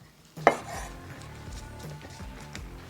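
A knife cuts skinless pork belly into squares on a board, with a sharp knock followed by steady, close scraping and repeated soft chopping thuds, and no talking.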